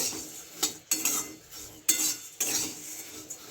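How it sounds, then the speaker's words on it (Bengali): Poha (flattened rice) being stirred as it fries in a pan over medium heat, with repeated scraping clinks of a spatula against metal over a soft steady sizzle, close and moderately loud. "মিডিয়াম গ্যাসে রেখে আমাকে নেড়েই যেতে হবে"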